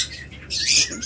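A violet opaline lovebird gives one short, harsh, nearby squawk that lasts about a second against quiet surroundings.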